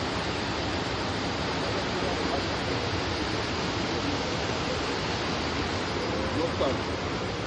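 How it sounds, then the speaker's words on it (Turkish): Spring water pouring out from the front of a valley near a cave, a steady broadband rush that stays loud and unbroken throughout, close to the microphone. "Evet, vadinin ön kısmından çıkan kaynak suyu."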